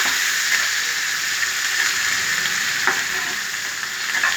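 Sliced onions fry in a pan of mixed oil and ghee for masala paneer, giving a steady, dense, close-up sizzle throughout with a few faint stirring clicks.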